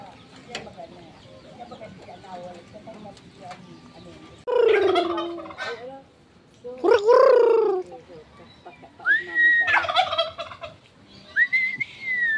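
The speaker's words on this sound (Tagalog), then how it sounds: "Manok dito." Several loud gobbling and squawking chicken calls burst out in turns, with a high whistling call between them over faint rural background noise in Albay province, Philippines.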